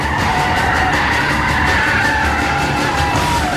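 Mitsubishi Lancer Evo X FQ360 spinning all four wheels with squealing tires and a roaring engine, a loud, continuous, close wash of noise throughout.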